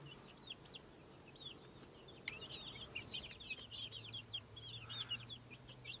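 Backyard birds, apparently a small flock of kept fowl, chirp and cluck faintly in short scattered bursts over a quiet outdoor background, with a low steady hum underneath.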